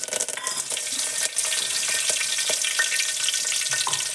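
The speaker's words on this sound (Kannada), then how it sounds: "ಈಗ ನೋಡ್ರಿ ಇವು ಚಟಪಟ ರೀ ಕರಿಬೇವು" Curry leaves, cumin, mustard seeds and garlic sizzle and crackle loudly in hot oil, a dense steady frying hiss with scattered sharp pops and spatters, close up and with no talking.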